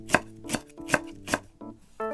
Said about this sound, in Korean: 대파 먼저 송송 썰어 주시고요